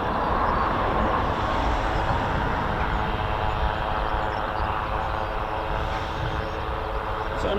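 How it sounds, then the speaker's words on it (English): Two Grob Prefect training aircraft pass together, a steady broadband propeller-engine drone holding level and fairly loud throughout, with faint voices partly underneath. "So a nice flight of 2 Grob Prefect."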